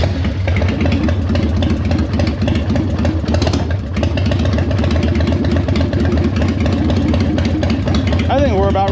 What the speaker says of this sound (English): This one she never liked to idle when she's cold